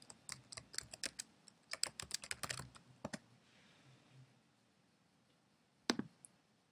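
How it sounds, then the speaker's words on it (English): Quick bursts of keystrokes tap on a computer keyboard, fairly close and clear, then a pause and a final single click near the end. "let me type in my information here"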